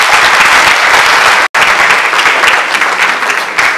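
Sustained, loud audience applause at an international business summit in Enugu, dense continuous clapping filling the whole stretch apart from one brief cut near the middle.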